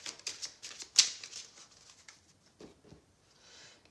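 Tarot cards being shuffled for a weekly card draw, a quick run of crisp riffling flicks with one sharp snap near the start, then softer scattered slides fading out, close and alone.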